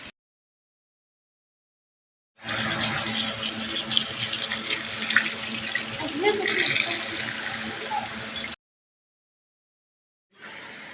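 Gunda (lasoda) fruit being rinsed under clean running tap water for Rajasthani pickle, a steady close splashing flow lasting about six seconds before stopping, with a brief return of water at the end.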